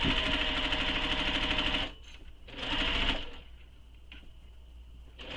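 A sewing machine stitches the side seams of a crossbody bag, its steady rapid whirring running in close bursts: a long run, a brief pause, a shorter run, then quieter handling with soft clicks.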